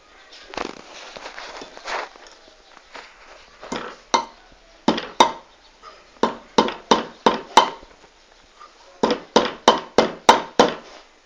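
Repeated hammer strikes driving a nail into plaster in uneven bursts, some quick runs of blows and some single knocks, sharp and close with short pauses between.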